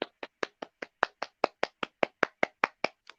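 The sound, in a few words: hands applauding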